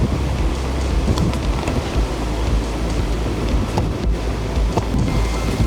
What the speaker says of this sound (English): We got quite a storm going on